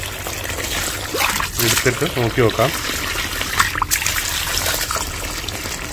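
Muddy backwash water from a home vessel filter trickles out of a yellow-taped line into a glass, a thin steady pour in the background while someone speaks over it.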